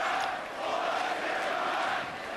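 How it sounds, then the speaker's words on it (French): A large crowd at the Doudou procession in Mons, Belgium, just after the religious procession past Sainte-Vaudrue, voices massed in a steady, dense roar that stays loud and unbroken throughout. "La foule chante,"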